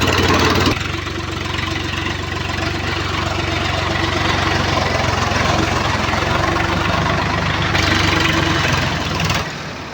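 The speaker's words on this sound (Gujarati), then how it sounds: "તમને ટ્રેક્ટરનો વધુ અવાજ આવશે અને મારો અવાજ ઓછો આવશે" A tractor pulling a harrow through a field runs with a loud, close, steady diesel drone and a rumbling, knocking throb that continues unbroken throughout, with no talk over it.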